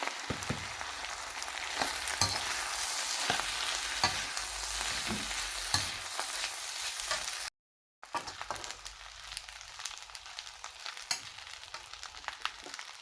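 Rice is stirred into a hot pan with shrimp for Cantonese-style fried rice, giving a steady, close sizzle with scraping stirs throughout and a brief dropout near the middle.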